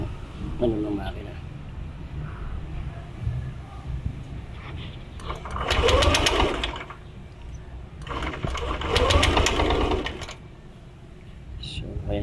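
A motorcycle with a fault that stops it starting is cranked twice. Each attempt gives a whirring starter burst of about two seconds that never catches, over a low engine hum, with someone talking throughout.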